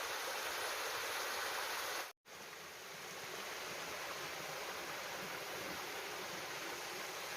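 A low-flow mountain stream and small waterfall at Moaksan provincial park runs in a steady, even rush of water, with a brief dropout midway before the flow sound resumes.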